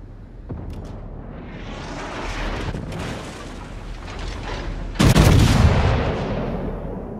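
Heavy naval guns of the North Carolina battleship fire in World of Warships, with a rumbling mechanical buildup, a sharp crack near the start and a huge booming broadside about two-thirds through that rolls away.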